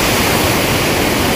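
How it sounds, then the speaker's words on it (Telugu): The Erakal waterfall near Mawryngkhang village in Cherrapunji, Meghalaya, gives a loud, steady, close roar of rushing water with no pauses. "ఎరకల్ వాటర్ ఫాల్ చూడండి ఎంత బాగుందని"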